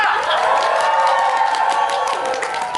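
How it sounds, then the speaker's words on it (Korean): Musical theatre audience at a closing-night curtain call cheering and applauding for a lead actress, a dense continuous wash of claps and shouts filling the hall at steady loudness throughout. "우리 스파이의 디바 강정인 배우님께 여러분 환호성 다시 한 번 부탁드리겠습니다"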